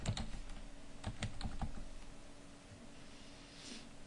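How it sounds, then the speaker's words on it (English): Keys clack on a computer keyboard while text is entered in Photoshop Elements, a few close, crisp strokes grouped near the start and then quieter tapping over faint room hum. "then we'll type in here Photoshop."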